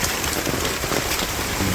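Heavy rain pours down outside in a village, a dense, steady hiss of drops close by with no pause and no voices over it.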